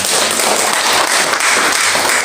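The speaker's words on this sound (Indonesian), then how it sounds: "Tepuk tangan dong." A congregation at a prayer fellowship in a Jakarta apartment claps loudly and continuously, a dense, close roar of many hands with no break across the short stretch.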